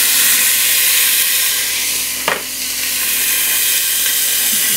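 Pork belly fat sizzles steadily as it renders in a pan, a constant close hiss across the whole stretch with one brief sharper crackle near the middle.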